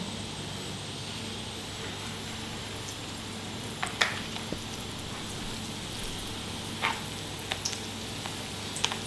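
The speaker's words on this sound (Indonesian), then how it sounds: "Kita beri kocokan telur." Beaten eggs sizzling in hot oil in a pan, a soft continuous frying hiss with a few faint clicks and pops, heard alone.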